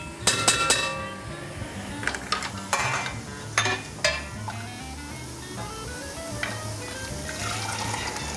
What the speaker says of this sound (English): I'll just kind of gently stir this around while you add